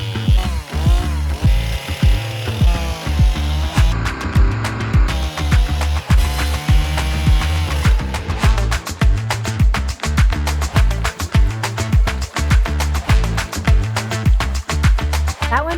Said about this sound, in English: So I'm gonna use my chainsaw.